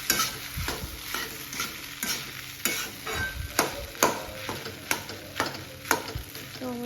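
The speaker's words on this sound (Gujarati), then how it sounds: "તો ચાલો રૂશાન માટે સરસ મજાના ભાત વઘારું છું." Leftover cooked rice is tempered and stirred in a hot frying pan, with a soft sizzle beneath regular sharp scrapes and taps of a spatula, close and steady, and no one speaking.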